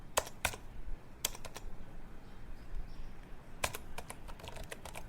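Keystrokes on a computer keyboard as a command is entered on a Windows 11 PC, coming in short bursts of quick, faint clicks with pauses between them, over a quiet hiss.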